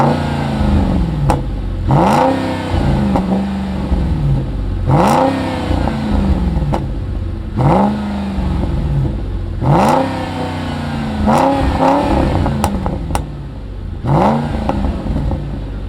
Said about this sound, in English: my favorite thing that he did to this car is a resonator delete with a MagnaFlow